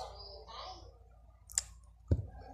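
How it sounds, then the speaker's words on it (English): Scissors snip through drinking straws for a tangled craft, giving one light click and then a sharper, louder cut near the end over a quiet room with faint background noise. "cut the straws"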